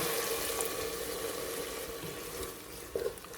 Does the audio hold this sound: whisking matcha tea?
no